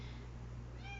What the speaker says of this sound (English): if you heard that, that's my cat being, well, my sister's cat being annoying.